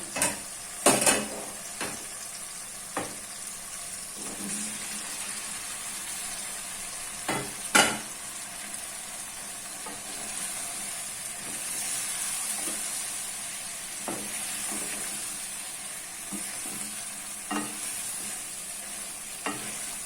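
Pieces of taro added to a hot pan for a desi-style taro curry, hissing with a steady sizzle while a spoon scrapes and clanks against the pan in scattered bursts.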